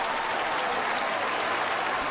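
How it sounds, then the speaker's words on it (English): Steady applause from a studio crowd at a live broadcast event, dense even clapping sustained alone for a couple of seconds with no talk. "See, you got your applause, Jenny."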